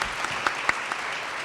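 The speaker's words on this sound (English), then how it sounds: "Round of applause for you." An audience at a leadership breakfast in a room claps together, a dense close patter of many hands over a brief burst with a few sharper individual claps standing out.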